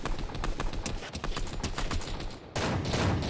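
Gunfire in the video game Fortnite, a dense crackling burst of rapid shots that runs continuously and grows louder and harsher near the end, heard alone without talk.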